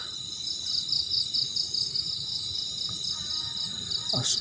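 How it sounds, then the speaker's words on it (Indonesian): High, steady insect-like chirping at night at a campsite, continuous shrill trilling with a faint rustle and brief knock near the end, no talking. "Burung, itu suara burung apa ya teman-teman ya?"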